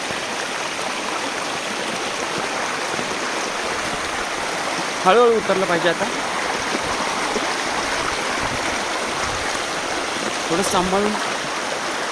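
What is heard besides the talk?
babbling stream water flowing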